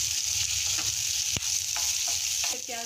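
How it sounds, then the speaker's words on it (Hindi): Onions and tomatoes fry lightly in a pan for a restaurant-style malai kofta gravy, giving a loud, steady close-up sizzle with a few soft stirring clicks near the end. "हम थोड़ा थोड़ा इसको फ्राई करेंगे प्याज और टमाटर को"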